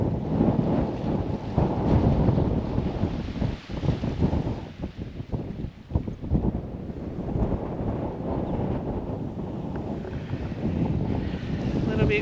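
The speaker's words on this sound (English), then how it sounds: "A little bit windy." Strong gusts of wind at a beach campsite roar across the microphone in a constant rumbling rush, swelling and easing with no voices.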